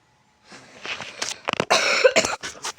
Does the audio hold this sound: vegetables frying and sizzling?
no